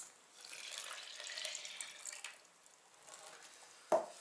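About 300 ml of water poured into a shaker for a collagen protein drink, a soft continuous splashing stream lasting a few seconds, close by, ending with a brief sharp knock.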